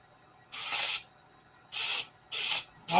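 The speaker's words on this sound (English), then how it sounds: "Hey, John, both of these guns spray." A paint spray gun loaded with dope fires three separate bursts of broad, loud hiss, each lasting about half a second to a second, with quiet gaps between them and the start of a fourth burst at the end.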